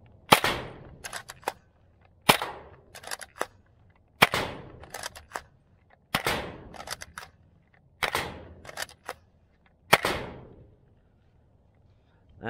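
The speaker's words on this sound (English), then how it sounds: "Let's see how it fires short darts." A modded Nerf Disruptor blaster fires short foam darts in six sharp, loud snapping shots about two seconds apart, each followed by quick mechanical clicks, close and otherwise quiet.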